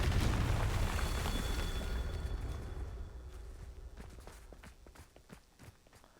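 The Confringo spell goes off in a wizarding video game as a heavy blast opens the clip, then rumbles away into scattered crackles and thuds over several seconds.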